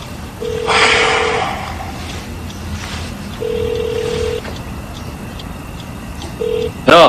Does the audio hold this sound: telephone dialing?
yes